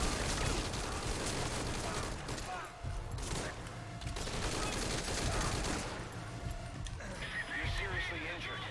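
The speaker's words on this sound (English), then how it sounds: "who's shooting at me?" Bursts of gunfire in Metal Gear Solid V: Ground Zeroes, repeated rapid shots in clusters over a busy game soundscape, fairly loud, with someone talking over the action.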